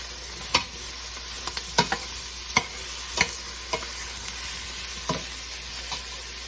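Red beans being stirred in a pot, a low steady simmering hiss punctuated by about ten sharp spoon clinks and scrapes against the pot at irregular intervals.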